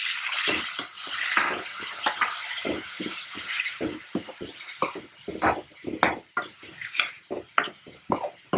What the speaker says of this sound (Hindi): अब ये टमाटर डाल देंगे।